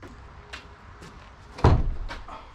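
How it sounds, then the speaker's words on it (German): A wooden barn door is pushed shut with a single solid thud and rattle midway through, preceded by faint knocks and scrapes of handling, set in a quiet hay barn with no talking. "Ja, dann wird die Tür zugemacht und verschraubt."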